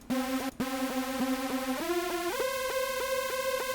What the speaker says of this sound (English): It's easier to tell that it's detuned when you play low.